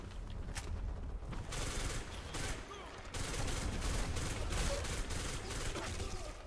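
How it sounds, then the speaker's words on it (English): Automatic gunfire from a rapid-firing gun in the shooter game Black Squad, rattling in long sustained bursts with short breaks, loud and close throughout. "Just hold the trigger down and let the rate of fire do everything else."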